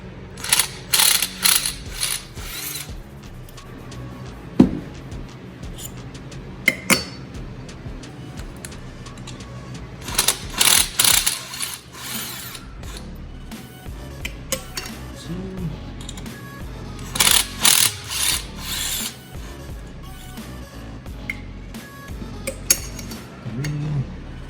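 Ratchet wrench with a 10 mm deep socket tightening a spark plug in a 1.8T MK6 Jetta engine bay, several bursts of rapid clicking separated by pauses, close and distinct.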